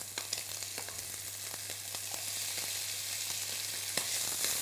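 Bacon lardons and onions fry in a very hot pan: a dense, steady crackling sizzle with scattered pops, close and continuous, rising slightly toward the end, with no voices.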